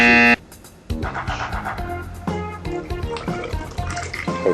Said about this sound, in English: we're going to pour the water into the funnel.